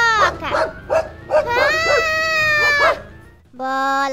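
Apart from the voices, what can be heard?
dog barking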